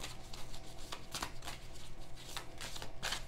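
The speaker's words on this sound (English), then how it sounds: "These cards are flipping like that." Tarot cards shuffled and flipped in a series of quick, crisp riffling bursts and snaps, close and fairly quiet over a faint steady background hum, with no speech.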